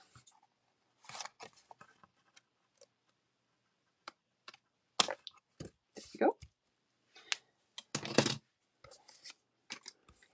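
Several crisp scissor snips cut through card stock in short bursts, trimming excess, with a brief spoken remark between cuts.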